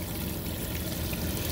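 Strong steady spray from a shower head on its massage setting, with plenty of water pressure, giving a continuous broadband hiss of pouring water close by, unbroken and without talk.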